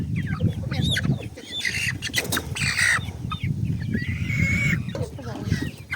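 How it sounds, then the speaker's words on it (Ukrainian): A crested hen clucks and squawks close by in a coop among other chickens, several short calls over a low background, with someone talking to it. "бачите, яка чубата в мене курка"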